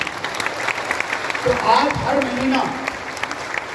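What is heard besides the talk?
audience applause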